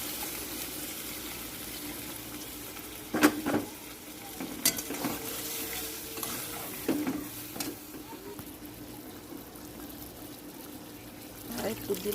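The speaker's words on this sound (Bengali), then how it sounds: "রান্না করা সেই জলটা দিয়ে দিলাম" Cooking water is poured into a hot, spicy red chicken curry, setting off bursts of splashing and hissing sizzle over a low simmer, with several separate pours across the stretch.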